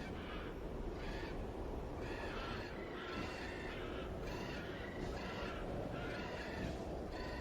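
Crows caw in the City of Heroes game in a repeated series of harsh, rhythmic calls. The calls come at fairly regular intervals over a dense, steady background rumble and sound moderately distant.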